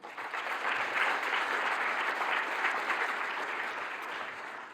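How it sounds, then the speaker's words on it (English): A conference audience applauds at the closing plenary of a symposium, a dense, steady wash of many hands clapping that holds loud throughout and eases slightly toward the end. "A big applause for them."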